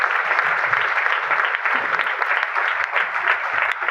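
A crowd claps loudly for the company at an investment plan presentation, a dense, sustained burst of many hands that holds steady from start to finish with no talking over it.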